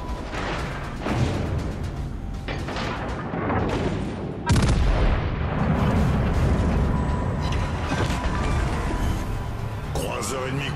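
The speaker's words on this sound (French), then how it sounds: "Concentrez le tir sur le navire ennemi." Warship naval guns boom in World of Warships Legends, heavy salvos and a big blast near the middle over continuous battle noise, with a voice speaking at times.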